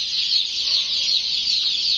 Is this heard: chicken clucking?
yes